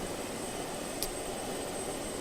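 Steady drone of a plane engine in flight in the video game Just Cause 2, a constant broadband roar with no voices.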